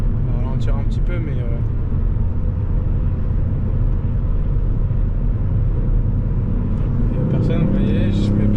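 A Ford Fiesta ST with 200 hp accelerating hard on the road to overtake, heard from inside as a loud, steady engine drone and low rumble rising slightly, with brief chatter near the start and end.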